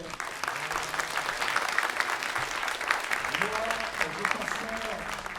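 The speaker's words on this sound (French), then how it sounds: "qu'on peut aussi applaudir s'il vous plaît" Audience applause at an actor conference panel at a Toulouse game convention, dense steady clapping from a hall full of people, with voices heard beneath it.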